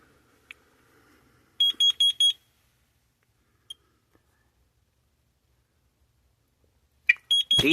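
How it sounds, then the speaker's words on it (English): Carbon monoxide alarms chirp in short bursts: a quick run of four loud beeps, scattered single chirps in a quiet room, then another cluster near the end. "some devices are still beeping"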